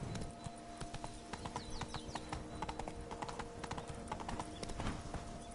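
Roach, the horse in the Witcher 3 video game, trotting with a steady clip-clop of hooves, close and continuous over quiet ambient game sound.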